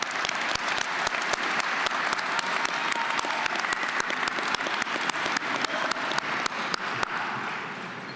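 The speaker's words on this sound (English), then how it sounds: "Let's have a round of applause for all of our master's graduates." A round of applause for master's graduates at a fall university engineering commencement fills the hall as a steady roar of clapping, with sharp individual claps standing out close by throughout.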